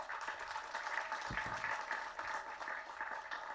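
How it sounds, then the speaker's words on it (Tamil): Audience applause at a Tamil film launch pooja ceremony, welcoming the producer: a steady, dense wash of many hands clapping that holds at an even level for the whole stretch. "கரகோஷத்தோட"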